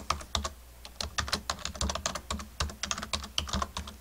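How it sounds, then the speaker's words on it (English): Someone typing an email address on a computer keyboard, a steady run of quick, close key clicks with no talking. "Type in your email address that your school entered for you"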